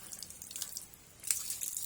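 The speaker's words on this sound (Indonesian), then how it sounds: "Kita siram sampai pokoknya sampai ngocor ke bawah." Water poured over a potted aglaonema plant, splashing on the leaves and trickling down through the soil, a faint, close patter and dripping.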